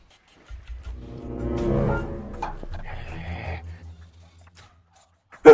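A dog named Bruno at a house, with whimpering and yipping sounds rising and falling over a few seconds, then a sudden loud thump at the end; no talk.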